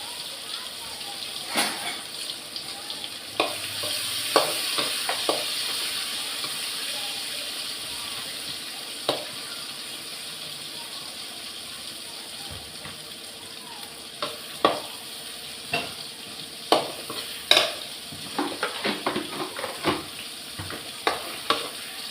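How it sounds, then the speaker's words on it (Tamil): Sun-dried bitter gourd fries in a pan with a steady low sizzle, broken by frequent irregular clicks and scrapes of a spatula stirring, busier toward the end. "இதை ஃப்ரை பண்ணி எடுத்துக்கோமா."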